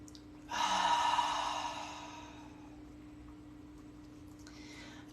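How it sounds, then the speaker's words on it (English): A deep guided breath during a morning mindfulness exercise: a long open-mouth exhale sweeps in loud and airy, then fades over a couple of seconds into quiet room hum. "Inhale, open mouth, exhale."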